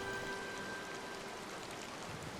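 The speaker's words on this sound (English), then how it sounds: "It looks like rain." Steady rain falling in the Disney Dreamlight Valley video game, a continuous soft hiss of drops on surfaces, even and unbroken, with no voices over it.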